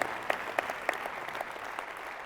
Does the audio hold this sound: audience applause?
yes